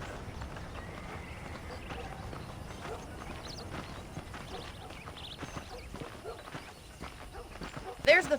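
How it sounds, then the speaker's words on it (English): Horse hooves clip-clopping in the Western video game Red Dead Redemption, soft and fairly distant under ambient outdoor noise, with a burst of louder sound at the very end. "The horses are saddled up over here."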